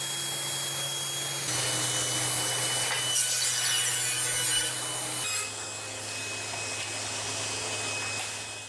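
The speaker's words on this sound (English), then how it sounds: "The next cut is going to be to finish up the shallow wide rabbet." Table saw blade cutting a shallow, wide rabbet into a wooden moulding blank, a steady loud whining cut that runs throughout with a brief change in pitch partway, and no talking.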